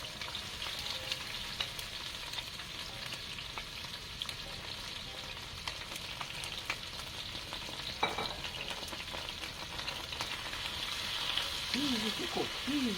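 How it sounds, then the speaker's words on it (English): Onion, scallion, pepper and thyme frying in a pot, with a soft, steady sizzle and occasional faint clicks at a low level. "I am going to put my onion and my scallion and my pepper and thyme and all the thyme of pepper in the pot first"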